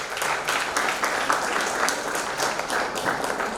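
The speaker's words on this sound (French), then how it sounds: "Pendant que nous pensons et applaudissons encore très très fort pour Maman Vinga" An audience at a life celebration gathering in the USA applauds a woman, a steady, moderately loud wash of many people clapping that continues without pause.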